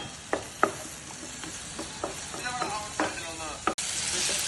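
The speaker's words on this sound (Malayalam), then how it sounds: "അതിലേക്ക് നേരത്തെ അരിഞ്ഞു വെച്ച തക്കാളിയും കൂടി ചേർത്ത് നന്നായി ഇളക്കിയെടുക്കുക" Chopped tomatoes for an egg curry sizzle softly in a pan while being stirred, with a few sharp spoon knocks against the pan over the steady frying hiss.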